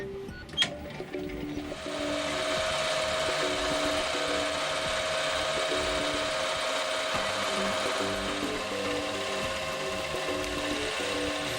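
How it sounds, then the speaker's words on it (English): A small watchmaking lathe turns a watch part blank to diameter, then drills and bores its hole, giving a steady whirring machine hum with faint cutting chatter throughout. "I turned the blank to the correct outside diameter and then drilled and bored the hole to the correct size."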